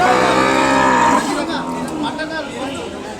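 At Kodad's weekly cattle market, a loud, close moo fills the first second before fading into softer lowing, with crowd chatter and talking behind.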